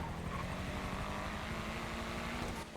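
Helicopter in a multiplayer role-play video game, a steady low rotor chop with a dense engine drone that stays loud and constant throughout, with no talk over it.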